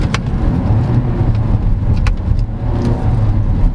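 A 2022 Suzuki Vitara ALLGRIP engine hums steadily and loudly from inside the cabin, with slight shifts in pitch as the automatic transmission changes gear.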